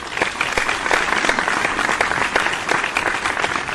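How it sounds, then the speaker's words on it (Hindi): A sound-effect burst of dense crowd applause plays alone, a steady, close clatter of many hands clapping for a few seconds. "इसके लिए तालियां तो बनती हैं भाई"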